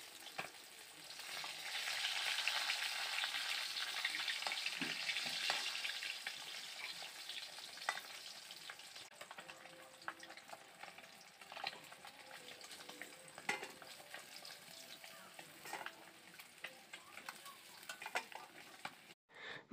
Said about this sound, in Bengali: এভাবেই মাছটাকে আমি উল্টে পাল্টে ভেজে নেব